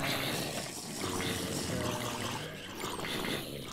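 Drinking salt water in the Minecraft video game, a continuous gurgling, splashing watery sound at moderate level for several seconds, with no clear talk.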